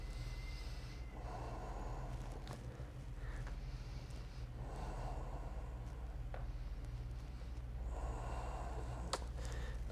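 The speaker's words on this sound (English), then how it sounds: "Three more breaths." Slow, deep yoga breathing during a standing stretch, with three long, soft inhale-exhale swells at an even pace over a steady low background hum.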